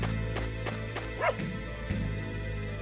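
A dog in the video game Tales of the Abyss gives several short barks and yips over steady background game music, with one whining, rising yelp in the middle.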